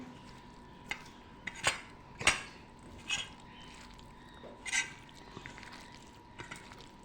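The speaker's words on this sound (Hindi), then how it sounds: "खूब अच्छे से मिक्स कर लेंगे इसको हम हाथ की मदद से" Chopped vegetables are mixed by hand into gram flour batter in a bowl for pakora, giving soft intermittent squishes and occasional clinks against the dish, close and fairly quiet.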